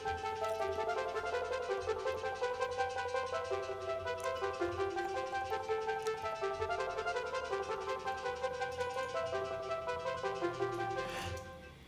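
Bright synth plucks repeat in a quick, steady rhythmic pattern over a beat, the main lead heard at the drop in a remake, continuous and fairly quiet, with no talking.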